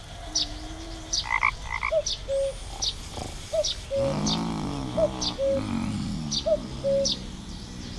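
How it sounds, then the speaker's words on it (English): A clicker frog in a night-time fantasy adventure game gives repeated sharp clicks and croaks in a steady rhythm over a layered forest backdrop, with whistled birdlike coos and a cuckoo call; no one speaks. "Maybe the clicker frog will appeal to it more than my voice."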